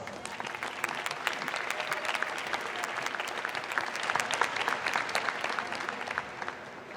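Steady applause from a large audience at a university diploma and awards ceremony, dense clapping that holds evenly throughout without a break.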